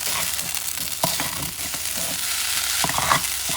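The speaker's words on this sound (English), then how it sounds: "What you're going to do, you're going to stir it" Rice for a spicy shrimp bowl frying in a pan while being stirred, a steady close sizzle with occasional scraping strokes of the utensil, no voices.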